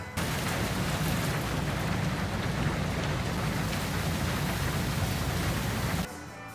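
A summer thunderstorm downpour, heard as if from under a duvet, makes a dense, loud rain hiss that stays steady with no distinct thunderclaps, then cuts off abruptly near the end.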